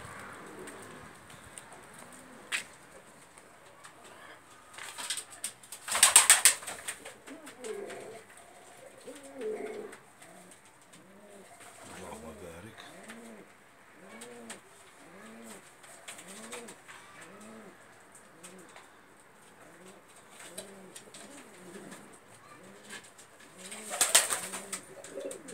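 Pigeons coo in repeated soft, rhythmic phrases close by inside a loft, with a few brief louder rustles and bursts, and no voices over them.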